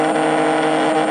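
A small electric motor on a 12-volt pack spins up steadily toward about 10,000 RPM, a close, continuous whine with layered harmonic tones that holds loud and even throughout, no voices present.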